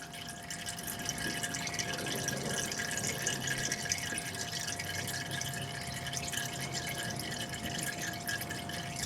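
Engine oil drains steadily from a 2014 RAM Cummins 6.7 diesel, a soft continuous trickling and dripping of liquid with a faint steady hum behind it, quiet and alone without voices.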